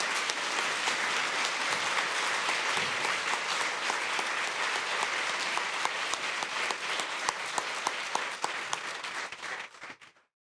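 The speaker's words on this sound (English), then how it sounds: "Round of applause for all our cadets," Sustained applause from a crowd honoring sheriff's cadets at a county sheriff awards ceremony, dense and fairly close, holding steady before trailing off at the end.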